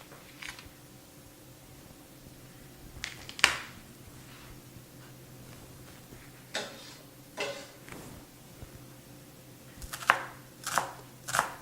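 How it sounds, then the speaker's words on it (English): Kitchen knife dicing a purple onion on a cutting board, sharp taps arriving in uneven clusters with pauses between, close and fairly faint over a quiet hum of background noise. "Now I'll dice up my onion."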